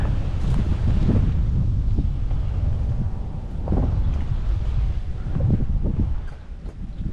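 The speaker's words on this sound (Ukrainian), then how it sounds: "Вітер." Gusty wind buffeting the microphone, a constant low rumble that swells and fades in rough waves, with no voices.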